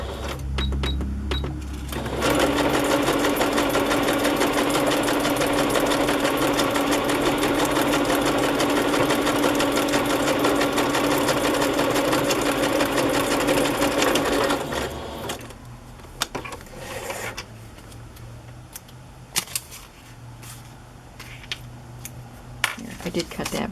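Close and steady, a sewing machine runs a zigzag stitch for about thirteen seconds, a busy rattling whir that then stops, followed by quieter handling clicks and rustles as a voice talks.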